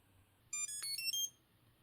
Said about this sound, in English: we just quickly press the power button, and it will emit a sound